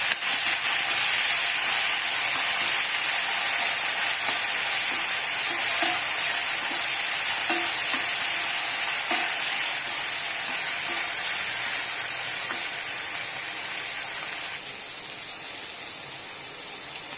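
Tomato fries in a pan for coriander thuvaiyal, giving a steady close sizzle with soft spatula scrapes and taps as it is stirred, easing slightly toward the end.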